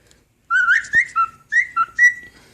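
A cockatiel whistles a short melodic phrase of about six rising and falling notes, close and clear, with a brief tap partway through and no talking.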